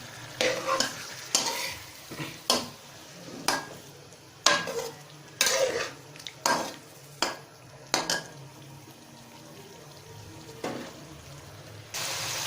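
Chicken for green chilli chicken sizzling in a pan under repeated scraping and stirring, a rhythmic series of clattering spatula strokes over a continuous low fry, pausing briefly near the end.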